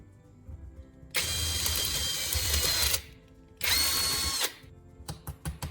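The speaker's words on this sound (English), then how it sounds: "Take a hand drill and carefully widen the opening at the top of the lighter." A hand drill whirs into a plastic lighter in two long bursts of a few seconds each, pausing in between, followed by several short quick trigger taps at the end.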